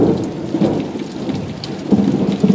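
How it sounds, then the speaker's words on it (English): A thunderstorm in Las Vegas, with a deep rumble of thunder rolling under steady heavy rain pattering on surfaces, loud and close with no voices. "my own lightning, thunder, rain sounds"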